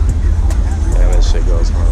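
An Infiniti G35 rolls up at a large Las Vegas car meet, its deep, loud exhaust rumble filling the foreground beneath people talking nearby.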